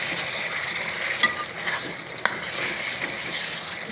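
Chicken being stirred and fried with masala in a pan for homemade Sindhi chicken, a soft continuous sizzle broken by a couple of sharp spoon scrapes and clacks.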